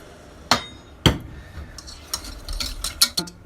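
A spoon stirs vegan cream sauce thickening in a hot pot, with sharp metallic clanks against the pot's side, two distinct knocks followed by a quicker cluster of scraping clinks, close and fairly loud.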